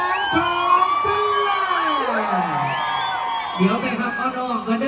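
A festive crowd screams, whoops and cheers loudly to welcome a young girl singer. Overlapping high shrieks and shouts rise and fall continuously, with voices mixed in throughout.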